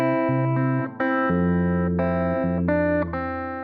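Clean, sustained guitar notes ring out in a short two-bar phrase, held tones shifting a few times with no voices.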